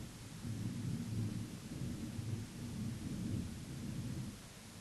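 A deep, rolling thunderstorm rumbles continuously at a distance, with a soft wash of rain beneath it and no voices.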